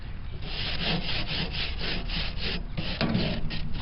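Scraping old grease and gunk off a grill grate to clean it, a steady rasping back-and-forth scrub repeated in quick, even strokes at close range with no talking.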